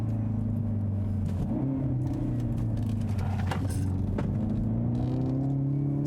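A hot hatchback's engine drones and rises steadily in pitch as it accelerates, a close, continuous throaty hum with some road rumble.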